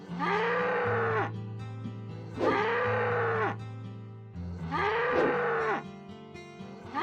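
A cow in the Ultima Online video game moos three times, loud and evenly spaced long lowing calls over a steady low game hum, with no voices.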